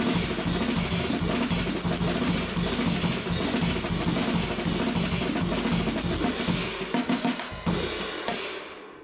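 Drumset 32nd notes phrased in sevens with crashing cymbals at tempo 100, a loud, continuous wash of hits and cymbal sizzle that thins into a few scattered strokes at the end.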